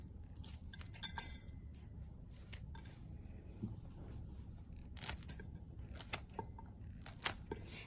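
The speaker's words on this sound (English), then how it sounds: "you cut it with your scissors like this, big pieces" Scissors snipping red chillies into big pieces for pickle, a series of sharp, light metallic snips and clicks, close and fairly quiet, scattered at an irregular pace with no talking.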